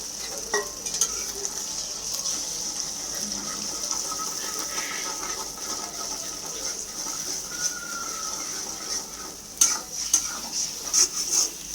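Eggs frying in a pan, a steady broadband sizzle running throughout with occasional louder crackles and spatters toward the end, close and moderately loud, with no talking.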